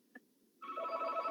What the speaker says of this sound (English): Sorry for the phone ringing there.